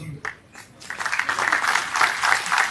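An audience at the Kusumtai Chavan memorial award ceremony claps, starting with a few scattered claps and swelling into a steady, full round of applause across the hall.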